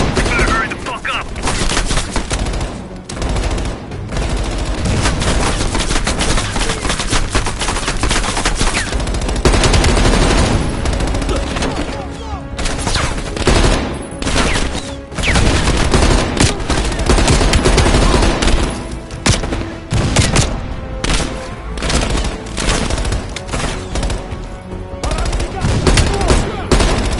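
Sustained machine gun fire from a Call of Duty: Cold War battle, loud and continuous bursts layered with other gunshots and explosions for the whole stretch, with shouted voices occasionally under the din.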